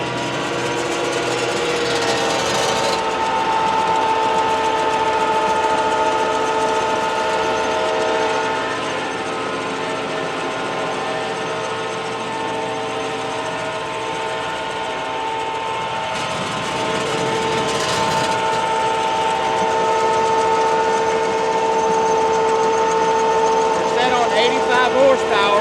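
A CAT diesel engine straining hard while powering an 85 horsepower tractor, a steady loud droning roar with sustained tonal whine throughout, heard up close.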